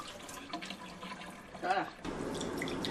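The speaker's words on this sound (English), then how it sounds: "Then rinse the rice in cold water at least 3 or 4 times until the rice is clear." Rice being rinsed in cold water in a bowl gives off soft splashing and swishing, with a burst of sloshing water partway through and then continuous running-water noise at close range.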